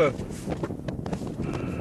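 Wind buffets the microphone in gusty, uneven rumbles while someone speaks over it.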